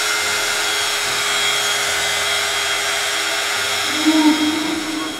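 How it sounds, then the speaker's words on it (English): Heat gun blowing steadily to dry paint on a Halloween pumpkin, a constant close whirring hiss with a slight change in tone near the end. "I'll just dry this with the heat gun."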